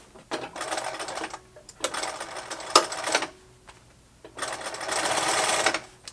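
Sewing machine stitching a seam through folded rubber inner tube material, running in three sustained bursts with short pauses between, close and loud with no talking.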